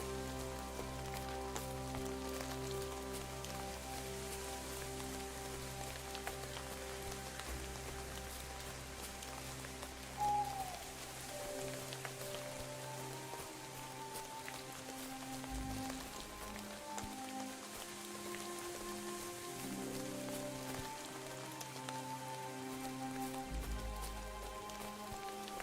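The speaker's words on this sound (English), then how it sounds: "this weather, the rain effects are a little wonky" Rain weather effects in the medieval video game Kingdom Come Deliverance 2, a steady soft patter of raindrops falling continuously throughout, faint and even, layered over low ambient game music with no voices.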